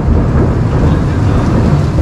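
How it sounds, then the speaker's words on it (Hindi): Thunder rumbling through heavy monsoon rain in northeast India, a loud, dense, continuous low roar with the hiss of rainfall on surfaces, close and without a break, no one speaking. "बिजली की आवाज़ है ये।"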